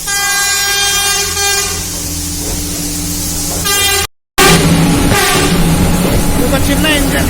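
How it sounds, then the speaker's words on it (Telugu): A small train arriving at Dudhsagar on a forest railway track near the waterfall, its horn blaring long and loud, then a cut to rumbling train noise with another horn blast. "చిన్న ట్రైన్ వస్తుంది ఇక్కడికి."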